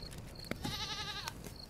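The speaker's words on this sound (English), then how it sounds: "Wait, I heard a goat." A goat bleats in a horror video game, one wavering, nasal bleat of under a second, fairly faint over a low background hum with a few small clicks.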